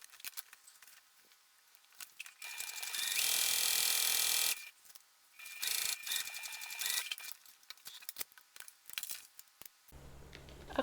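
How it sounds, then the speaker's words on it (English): A sewing machine runs a quarter-inch seam through the fabric of a crossbody bag, its needle chattering in quick bursts broken by short pauses. The stitching is close and steady, with a longer run near the start. "you're going to take this to the machine and you are going to stitch at 1/4 inch seam allowance"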